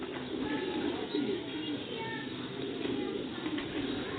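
Pigeons of a long-kept breed coo softly and repeatedly in a loft, a low, steady murmur of overlapping calls close by with faint background noise.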